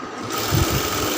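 A sewing machine runs along a chalk line while stitching a round kameez, a brief loud burst of continuous whirring motor and needle chatter with a low thump partway through.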